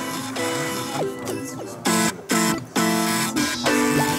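Floppy disk drives rigged to play music at a farm hackathon, sounding buzzy stepped tones in short rhythmic phrases with pitch jumps, close and fairly loud, with no talking over them.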